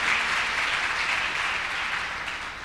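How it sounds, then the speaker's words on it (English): Audience applause at a First Fridays natural history museum discussion on wild harvesting, a steady dense wash of clapping from a crowd, fairly loud and sustained throughout with no talking. "Let's give a round of applause."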